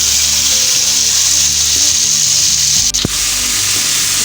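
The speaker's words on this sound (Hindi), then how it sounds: "अब इसमें बाकी की वेजिटेबल्स भी ऐड कर लेते हैं।" Vegetables for beef patties sizzling loudly in a frying pan, a dense continuous hiss with a brief clatter as more are tipped in, close and steady with no talk.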